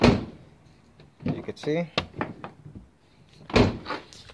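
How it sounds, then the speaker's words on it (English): A car door swings open on its repaired hinge without striking the fender, a couple of thuds and clunks up close, partly under someone talking. "If we open up the door, it no longer hits the fender and the door opens up all the way"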